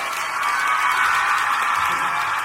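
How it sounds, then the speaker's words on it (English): Wedding guests applaud in a steady, dense wash of clapping from a room full of people, heard at moderate distance. "So I'd like you to all give a round of applause for yourself."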